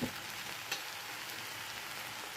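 A faint, steady frying hiss comes from red poha upma in a pan, with a couple of soft stirring taps near the start and end, brief and quiet with no voices.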